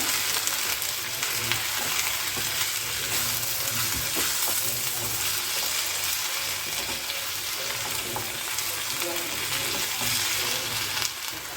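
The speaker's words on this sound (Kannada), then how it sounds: "ಇದನ್ನು ಇವಾಗ ಚೆನ್ನಾಗಿ ಫ್ರೈ ಆಗಬೇಕು ಸ್ವಲ್ಪ ಹಸಿ ವಾಸನೆ ಇರತ್ತಲ್ಲ ಅದೆಲ್ಲ ಹೋಗಬೇಕು" Spring onion and garlic fry in hot oil for a chutney, giving a steady, loud, close sizzle with faint stirring crackles throughout and no talking.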